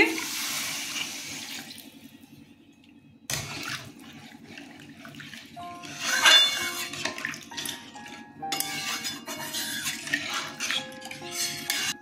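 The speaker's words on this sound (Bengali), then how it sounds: "কষানো হয়ে গেছে, জল দিয়ে দিচ্ছি।" Water is poured into a pan of Bengali fish curry with potatoes, a splashing gush that stops, then resumes in several uneven pours and trickles over a low steady stove hum.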